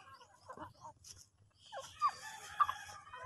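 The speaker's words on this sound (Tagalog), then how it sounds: "At magpapakain po tayo ng ating mga alagang Rhode Island Red tsaka Isa Brown." Rhode Island Red and Isa Brown chickens at morning feeding on a farm, giving soft clucks and a couple of sharper calls over low rustling, close by and fairly quiet.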